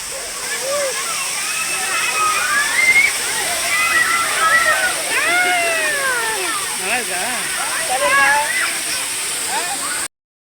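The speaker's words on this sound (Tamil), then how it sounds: "ஃபுல்லாக மலை நடுவில் நீர்வீழ்ச்சி." A mountain waterfall near Salem roars as a steady, loud rush of falling water, with a voice singing over it throughout.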